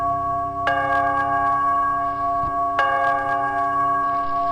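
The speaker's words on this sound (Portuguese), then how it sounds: "E o sino começou a tocar novamente." A large church bell high in a tower rings twice with bright, sustained metallic strikes that hang and decay slowly, loud and resonant, with no voices.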